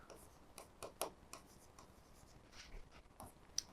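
Pen or pencil scratching out words and numbers in a table for a division word problem, in short quiet strokes and taps close by with small pauses between them.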